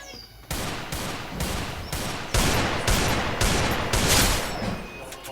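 Desert Eagle pistol fire in the video game Free Fire: about eight loud, punchy shots in an even rhythm roughly half a second apart, with no talking.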